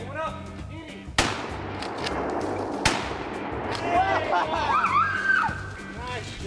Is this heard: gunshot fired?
yes